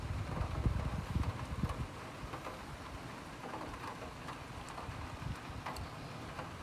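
Gusty wind buffets the microphone during a moderate to strong thunderstorm with lightning and a sudden drop in temperature, a low, blustery roar that is strongest at first and then settles into a steady rush.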